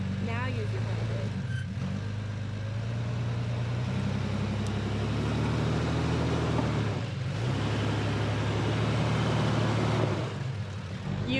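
Off-road vehicle engine crawling along a steep trail using front dig steering, a low steady rumble throughout with fluctuating revs, while people talk over it.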